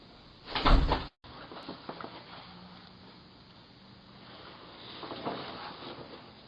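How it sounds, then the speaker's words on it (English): A house door shut once, a single loud thud early on, followed by quiet room ambience with faint movement and a soft rustle near the end. "Close the door, close the door."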